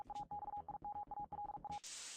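Keyed Morse code tone in the video game Deus Es Machina, a string of evenly pitched beeps of mixed lengths at a brisk rhythm, moderately quiet, ending as a bright hissing noise takes over.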